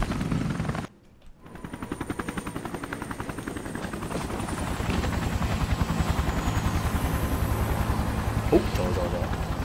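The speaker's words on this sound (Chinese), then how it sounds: "直升机来了" A helicopter arrives in the video game Resident Evil Revelations, its rotor beating in a steady, loud, rapid chop that briefly drops out near the start and then holds strong throughout.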